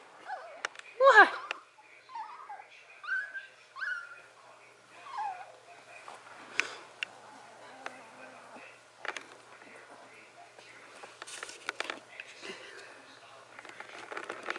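A young Vizsla puppy gives soft, high whimpers and short whines in scattered bursts, close by and fairly faint, with a person speaking quietly in between.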